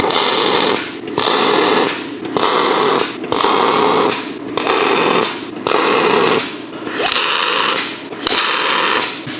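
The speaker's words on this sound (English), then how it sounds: "I'm gonna go ahead and start tacking this with our spool gun, running our ArcCaptain 205 MP." An ArcCaptain 205MP spool gun tack-welds aluminum with MIG. Loud crackling, buzzing bursts of about a second each repeat roughly eight times, separated by brief quiet gaps, with no talking.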